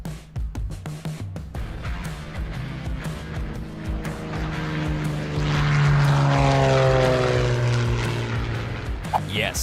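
A propeller plane roars past very close, its engine drone swelling loud then shifting pitch as it passes, with faint voices early on.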